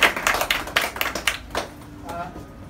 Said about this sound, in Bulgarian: Моля, аплодисменти за него.